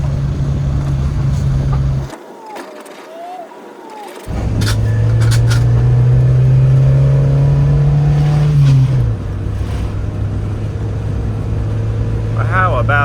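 A wagon's engine runs on the road, its loud steady drone holding for about two seconds. It cuts out briefly, then returns and climbs in pitch under acceleration before settling back to a steady hum, with a voice faintly in the background.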